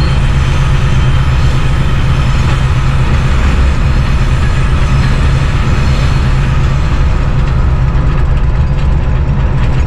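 Passenger train on the Bolan Pass railway in Balochistan, heard from onboard as a loud, steady low rumble of engine and rolling wheels filling the whole stretch without a break.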